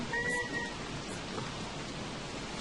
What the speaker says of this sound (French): Il pleut, c'est trop chiant.